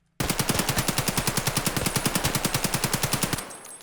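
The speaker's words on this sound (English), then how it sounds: "then this is the AKM" An AKM assault rifle in Escape from Tarkov fires one sustained full-auto burst, about two dozen sharp, loud, evenly spaced shots in a fast steady rhythm, ending in a brief echoing tail.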